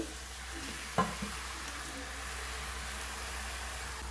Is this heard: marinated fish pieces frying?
yes